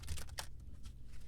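Tarot cards are shuffled briefly close up, a few quick riffling flutters followed by soft rustling, quiet and with no speech.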